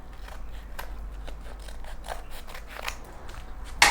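A debit card envelope being cut open with scissors: a quick series of close, crisp snips and paper rustles, ending in a louder crackle.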